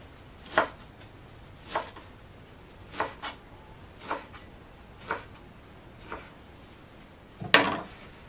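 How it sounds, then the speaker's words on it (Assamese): Coriander leaves being finely chopped with a knife on a cutting board for a green masala steamed fish: sparse, separate close taps at roughly one-second intervals, ending with a sharper, louder knock, with no talking. "ধনিয়া পাতখিনি সৰু সৰুকৈ কাটি ল'ম"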